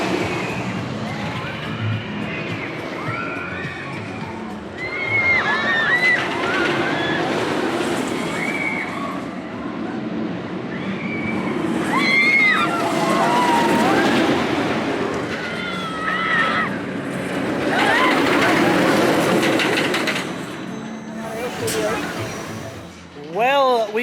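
Riding the Untamed wooden-hybrid roller coaster at Walibi Holland: a sustained loud rumble of wheels on track with swelling roar, overlaid by riders' screams and shouts throughout, rising toward the end.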